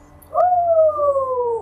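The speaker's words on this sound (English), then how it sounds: "I was gonna get our actual dog to howl." A pet dog howls in one long sustained note that rises at the start and then slowly falls, close and fairly loud, with no voices over it.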